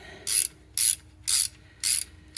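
Ratchet wrench working a 17 mm engine mount bolt on a Honda Civic, five crisp clicking ratchet strokes in an even rhythm, close and loud, with quiet pauses between them.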